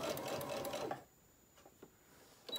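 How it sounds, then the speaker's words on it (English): A home sewing machine runs a short burst of back stitching, a fast whirring chatter for about a second before it stops, followed by a few faint clicks and taps in a quiet room. "I'm doing my back stitching."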